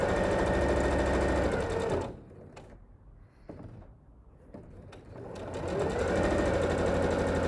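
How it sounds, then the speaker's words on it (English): A sewing machine stitches a Christmas tree runner, a fast rhythmic mechanical whir up close that stops for a couple of seconds while the fabric is realigned, then runs again. "So I'm going to sew, and since I'm not pinning, I'm realigning every now and then."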